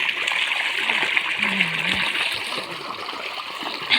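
Water splashes and trickles steadily, like running water poured over hands, on a cotton farm, with a faint voice briefly in the background.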